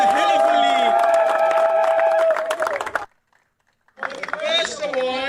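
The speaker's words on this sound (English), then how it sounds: "Give us a louder cheer, guys." Crowd cheering and clapping at a cricket league award ceremony for the LMS Premier League 7 in Lahore, loud whoops and applause mixed with an amplified voice, cutting to brief silence before the cheering resumes.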